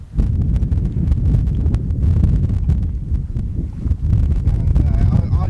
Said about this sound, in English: So the wind now is coming pretty much straight towards the camera.